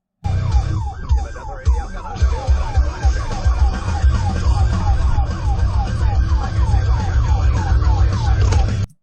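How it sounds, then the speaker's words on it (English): A police car siren wails in a steady repeating up-and-down pattern, loud and close, over the rumble of an idling car engine, with no talk. "he's got his lights and siren on when he put it in drive"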